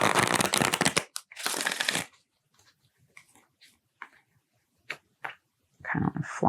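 Two bursts of riffling tarot card shuffles up close, then scattered soft taps and slides of cards, ending with another brief shuffle.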